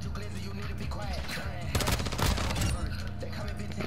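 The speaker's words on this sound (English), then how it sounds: "I shot first, bro." Rapid bursts of automatic gunfire from a video game firefight, loud and dense with sharp rattling volleys peaking midway, while someone talks over the shooting.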